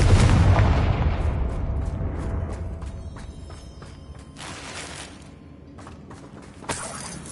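A Confringo blasting spell explodes in Hogwarts Legacy with a loud, deep boom at the start that rumbles and fades over several seconds, followed by faint crackling debris and a small sharp pop near the end.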